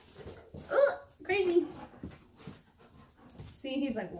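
Dog retching and throwing up during a heel training session, with harsh gagging heaves in bursts and short pauses between them.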